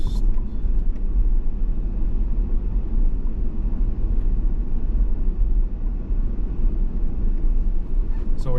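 Tesla car on FSD Beta 11.4.3 driving itself slowly through a parking lot, steady low road and cabin rumble throughout with no distinct events, close and continuous.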